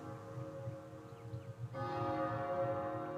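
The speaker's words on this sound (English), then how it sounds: "I can now hear the silver bell." A silver bell rings in the Professor Layton vs Phoenix Wright: Ace Attorney video game. It enters partway through as a sustained, bright, resonant chime layered over soft background music.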